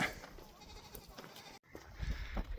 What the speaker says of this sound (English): traffic jam of goats here